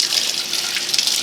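Tap water runs steadily into a kitchen sink while a rusty can opener is scrubbed under the stream, a continuous close hiss with no talking.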